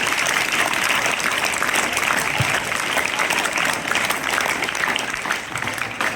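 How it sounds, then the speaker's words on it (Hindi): Students clap loudly and continuously at a school ceremony honoring guests at a government senior secondary school in Khanda Kheri, a dense, unbroken wall of applause. "तालियां बजाते रहो बेटा, जोर से तालियां बजती रहनी चाहिए।"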